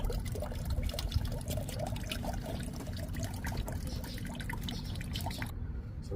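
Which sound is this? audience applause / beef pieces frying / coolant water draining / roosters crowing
coolant water draining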